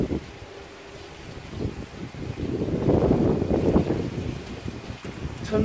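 Wind blows steadily outdoors at a seaside fishing spot, buffeting the microphone with a low rumbling roar that swells louder midway, with no talking.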